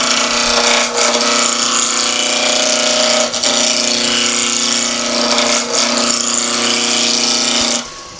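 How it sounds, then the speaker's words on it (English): Timber spinning on a wood lathe at about 1800 rpm while a roughing gouge is pushed gently along the tool rest, giving a steady loud scraping, tearing cut with a constant motor hum and brief dips as the tool lifts. "So rough and gouge, lift the handle to get the cut, and then nice and gently back and forward."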